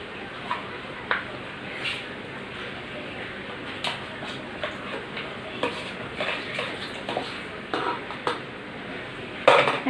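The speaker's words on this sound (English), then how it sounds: "Now we will add the prawns." Prawns go into a nearly finished vegetable curry and get stirred, giving soft scattered clinks of a spoon against the pot over a quiet, faint background, with light sizzling underneath.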